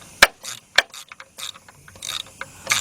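A ratchet wrench tightens the starter bolt on a 2007 Chevy Impala 3.9, a series of sharp close clicks and short pawl rattles in quick uneven bursts, with no voices.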